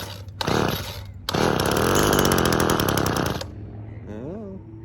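A small engine running on six-month-old fuel is pulled over and roars loudly in a sustained buzzing run for about two seconds, then cuts out, followed by someone speaking briefly.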